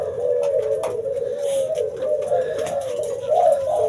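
Pet birds in a breeding cage coo in a steady, close run of soft repeated calls, the low throaty cooing continuous throughout with faint chirps above it.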